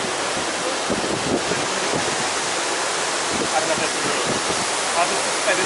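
Water rushes steadily out of the filters at an LA County water reclamation plant, a dense, constant roar like a small waterfall heard up close, with no clear break.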